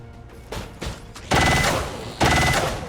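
Gunfire in XCOM 2 War of the Chosen against a mech: a few lighter shots followed by two heavy, loud blasts about a second apart, each with a bright ringing tail.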